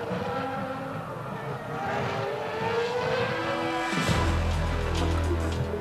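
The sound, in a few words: Formula 1 race car engines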